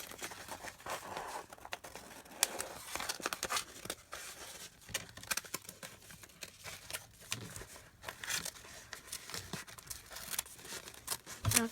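Scissors fussy-cut around paper roses for a junk journal page, giving quiet, irregular snips and crinkling paper rustles close up, with no talking.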